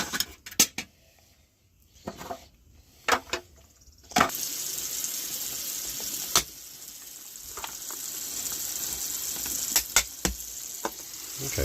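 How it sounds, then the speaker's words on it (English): Water gushes from a tap onto a plastic Masters of the Universe Origins Slime Pit toy as slime is rinsed off, starting with scattered clicks and splashes, then settling into a continuous close hiss of running water. "I'm going to rinse it all off this time"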